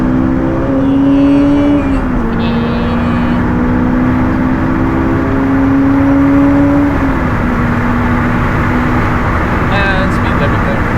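A Honda S2000 runs at full throttle on the Nürburgring, its engine droning loud and steady with rising pitch between shifts while a voice talks over it.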